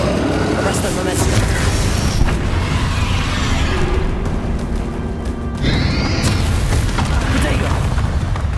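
Fiery spell blasts from the Confringo and Incendio curses in Hogwarts Legacy, loud booming bursts and crackling fire effects layered with battle sounds, with voices calling out over the action.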